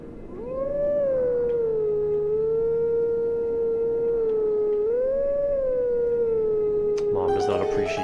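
Wolf howling tune from the video game Zelda: Twilight Princess, a long sustained pitched howl that rises and dips in slow swoops, steady and prominent, with a burst of other game sound cutting in near the end.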